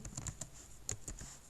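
Rapid, light keystrokes on a computer keyboard as a web address is typed, a short irregular burst of clicks heard close and fairly quiet.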